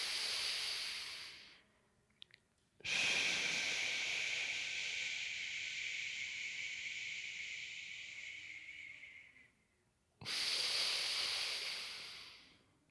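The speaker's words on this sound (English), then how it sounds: "Push the air out first. And in through the nose." Slow, deep breaths during a guided meditation, drawn in through the nose and pushed out, forming two long airy hisses with a short pause between them, close and steady, with no talking.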